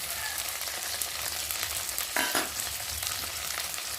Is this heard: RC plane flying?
no